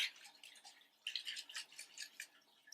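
Quick rattling sloshes of an essential-oil toilet spray inside a plastic spray bottle being shaken, soft and close, in two short bursts.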